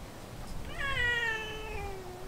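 A single drawn-out meow from a cat nearby at a campsite by a bamboo forest, rising then trailing off, over faint background noise.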